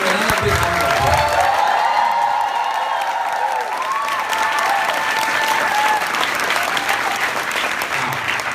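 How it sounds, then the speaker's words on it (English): Loud, sustained applause from a large audience at an Amway meeting, with dense clapping filling the room and steady, unbroken energy throughout. "Don't you think we should really give you another big round of applause?"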